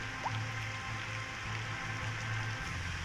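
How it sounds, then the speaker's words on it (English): Steady rain falls in the city-building game Cities Skylines 2, a soft, continuous hiss of drops alone, faint and even throughout with no talking. "It's just been raining non-stop."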